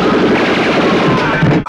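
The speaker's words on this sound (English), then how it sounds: "Oh right, we brought guns. We can just shoot these guys." Gunfire from a fight scene in a Hong Kong action movie, a loud continuous clatter of rapid shots mixed with crashing impacts, sustained for the whole short stretch before cutting off abruptly.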